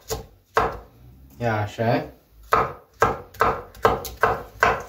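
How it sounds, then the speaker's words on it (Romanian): A knife slices bell peppers into thin strips on a board, a steady run of crisp chopping strokes with a short stretch of talking midway. "Ardeii o să tăiem fâșiuță, îi tăiem fâșii subțiri"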